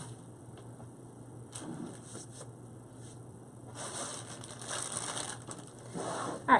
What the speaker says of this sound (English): One thing I always like to do is shake my wreath and make sure that this is on here nice and snug.